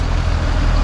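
A bus rumbles close by with a loud, steady low engine drone and road noise, filling the short moment without any voices.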